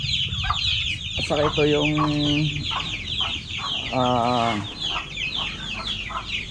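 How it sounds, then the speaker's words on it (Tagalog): Chickens in a backyard farm, including Rhode Island Reds and broilers, clucking and calling close by with a couple of longer drawn-out squawks, while someone talks over them. "Ang dami dito mga manok, nasisiyaw pa."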